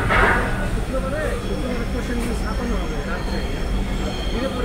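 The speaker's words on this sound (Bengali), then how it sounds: "বেশ কিছুটা বাঁক নিয়ে রেল বাদিকে ফার্ম গেট স্টেশনে ঢুকবে, যে কারণে চাকার ঘর্ষণে বেশ কিছুটা শব্দ এখানে পাওয়া যাবে।" Dhaka metro rail train rounding a curve into Farmgate station, a steady loud rumble of wheels and rail with a faint high squeal of wheel friction running throughout, heard from inside the car.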